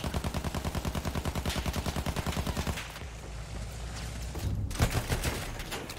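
In the Battlefield 1 video game, a Behemoth-fighting bomber's guns fire a rapid, rhythmic stream of shots, then stop into a quieter stretch broken by a few scattered bursts.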